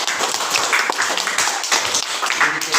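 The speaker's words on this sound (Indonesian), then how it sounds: "silakan tepuk tangan untuk kelompok" Students in a classroom clap for a group, a close, brisk burst of uneven hand claps lasting a few seconds.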